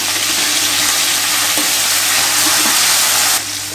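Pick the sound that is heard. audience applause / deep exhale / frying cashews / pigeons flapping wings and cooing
frying cashews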